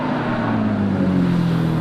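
Porsche Cayman race car at Brands Hatch Indy circuit during a GT Cup race, heading into Paddock Hill Bend, a loud steady engine drone held at high revs with no letup.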